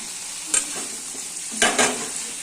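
Katla fish pieces dropped into hot oil, with two bursts of loud sizzling and spattering close by over a steady background hiss.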